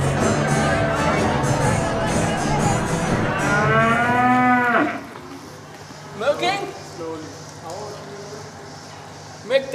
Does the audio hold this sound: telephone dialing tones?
no